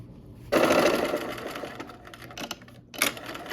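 Sewing machine stitching fabric: a fast, close mechanical whir starts abruptly, runs steadily for a couple of seconds, slows with a stop, then briefly restarts.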